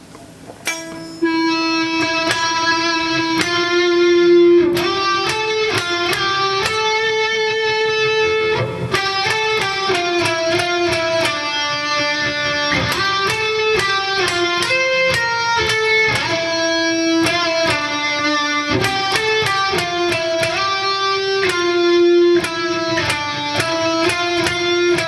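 An electric guitar plays a fast, melodic metal lead phrase, with clear sustained notes and rapid runs, loud and alone throughout.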